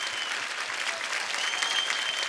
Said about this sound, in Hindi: आपकी जोरदार तालियों के बीच स्वागत